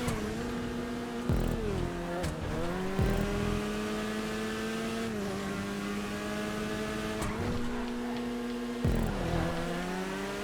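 Off-road cars race in GTA 5, with a loud, close engine whine climbing in pitch and dropping sharply at each gear shift several times, alongside other cars' engines and occasional tire noise.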